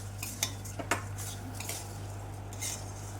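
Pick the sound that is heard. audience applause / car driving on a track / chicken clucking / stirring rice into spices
stirring rice into spices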